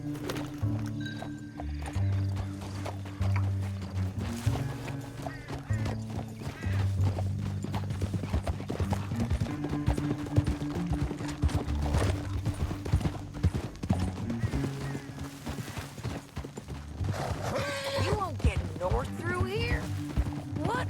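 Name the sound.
horse hooves clip-clop in video game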